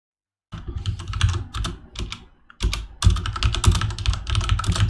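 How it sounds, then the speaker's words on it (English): Rapid computer keyboard typing rattles in close and loud after a short silence, a dense clatter of keystrokes with a brief pause partway through. "Sorry for this keyboard, guys."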